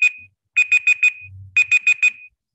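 Electronic alarm beeping in bursts: a single beep, then two rapid runs of four shrill, high tones with a brief pause between, fairly loud and close.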